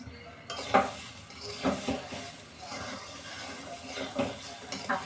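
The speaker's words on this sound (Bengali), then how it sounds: "চালটা যতক্ষণ না ট্রান্সপারেন্ট হচ্ছে ততক্ষণ আমি ভাজবো" Rice and a handful of raisins stirred and fried in a pan, with repeated scraping spatula strokes and light clinks over a soft sizzle, close by and rhythmic, faint voice in the background.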